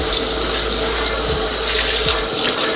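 Parts of a NuWave Pro oven are washed with soap and water at a sink, a steady loud stream of running water with faint rattles and knocks of the parts, with no talk.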